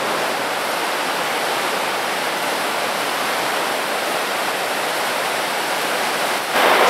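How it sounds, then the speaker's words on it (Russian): Khapilovka river surges through a spacious underground collector in Moscow, its strong current making a loud, unbroken rushing roar that echoes steadily throughout. "И там уже несет свои воды Хапиловка. Течение, конечно, очень сильное."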